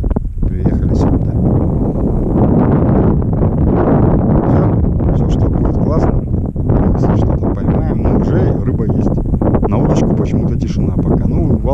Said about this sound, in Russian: Волнище, ветрище, я говорю.